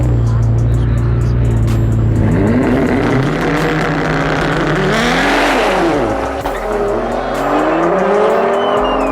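A 2017 Nissan GTR R35 racing a big-turbo, nitrous-fed Audi RS3, loud sustained engine roar with rising and falling revs as the cars accelerate and shift gears, joined by tire noise and a brief dip near the end.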